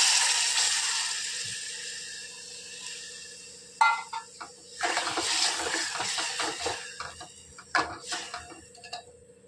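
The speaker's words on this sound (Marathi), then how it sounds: "आता आपण आळणी पाणी टाकत आहोत मटणाचं." Water splashes into a pot of mutton curry, a few separate pours and sloshes with clinks against the pot, loud bursts after a quieter start, heard close up with no talking.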